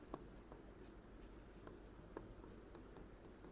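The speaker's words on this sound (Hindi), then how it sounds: "इसको भी लिख देता हूं" Faint pen or marker strokes scratch in short irregular bursts as notes are written during a Class 10 biology lesson, very quiet and close.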